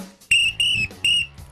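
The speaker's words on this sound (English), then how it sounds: "Debbie, pick up my whistle." Three sharp, shrill whistle blasts in quick succession, loud and close, with brief gaps between them.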